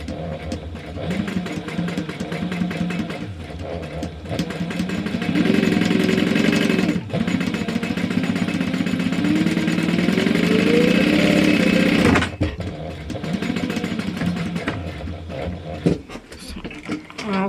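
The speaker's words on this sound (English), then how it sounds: "top stitch all the card slots, and I'm going to go ahead and do it at a 4mm stitch length" A sewing machine top-stitches card slots at a 4mm stitch length, running in long steady bursts with a rising whir, briefly stopping and restarting, close and fairly loud.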